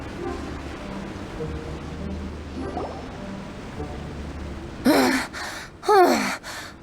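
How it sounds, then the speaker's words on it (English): A character from Genshin Impact breathes in a controlled way during strength training, with two distinct sharp breaths near the end after quiet game background ambience. "Controlled breathing."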